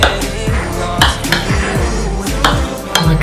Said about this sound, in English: with a knife, I'm just going to cut this into pieces